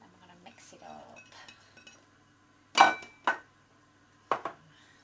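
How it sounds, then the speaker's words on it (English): Roast vegetables with garlic are stirred in a roasting dish, a few sharp utensil clinks and scrapes against the dish coming in short separate bursts after quieter rustling. "Now then, we're just going to put it all in a roasting dish. Then we're going to mix it all up."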